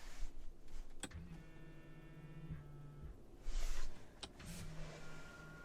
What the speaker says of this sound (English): folding side view mirrors